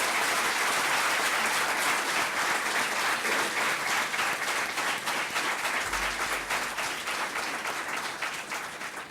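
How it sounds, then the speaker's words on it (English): Hall audience applauding a guest speaker at a lecture: sustained, even clapping from many hands that fades slightly toward the end, with no talk over it. "So kindly give a big applause to Dr."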